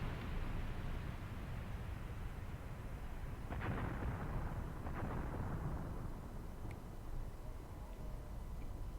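Incendiary ammunition strikes on soldiers in Graviteam Tactics, set at Kharkov 1942, come through as a couple of dull distant booms inside a steady, loud rumbling wash of battlefield noise.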